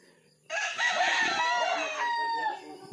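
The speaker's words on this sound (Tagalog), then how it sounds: "May alaga rin silang manok." A fighting rooster crows loudly and close by, one long strained call that rises and holds for a couple of seconds before trailing off.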